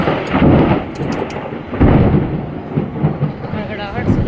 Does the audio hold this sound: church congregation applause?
no